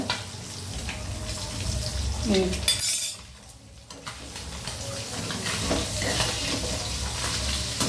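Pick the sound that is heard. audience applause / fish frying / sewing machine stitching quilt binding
fish frying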